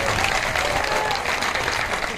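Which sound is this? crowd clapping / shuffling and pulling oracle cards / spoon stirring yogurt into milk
crowd clapping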